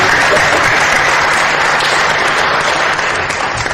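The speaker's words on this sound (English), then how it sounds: "Ladies and gentlemen, big round of applause." Audience at a corporate leadership summit in India applauds a Bollywood director, loud sustained clapping, dense and even throughout, close and unbroken, with no speech over it.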